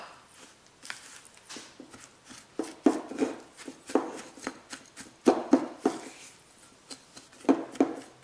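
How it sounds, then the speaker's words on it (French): Crushed Oreo biscuits being stirred with melted butter in a dish, with close, irregular scraping and tapping of a utensil against the dish. "J'ai fait fondre le beurre que je mets de suite dessus et je mélange."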